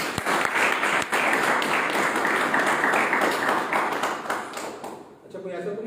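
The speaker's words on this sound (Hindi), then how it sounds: "आप अपने लिए ताली बजा लीजिए" An audience at a life-care training session bursts into sustained applause, many hands clapping together loudly and densely; the applause fades out near the end as a voice starts speaking.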